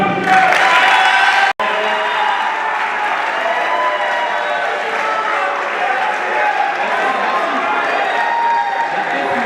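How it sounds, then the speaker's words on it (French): Students in a university hall applaud in a steady, dense wash of clapping mixed with crowd noise and cheering. It carries on loudly after a brief cut near the start. "je ne sais pas si vous pouvez encore applaudir"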